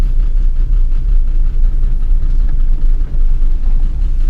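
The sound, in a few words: Volkswagen Jetta VR6 engine running, knocking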